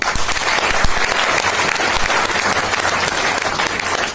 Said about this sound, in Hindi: एक बार विजय जी के लिए जोरदार ताली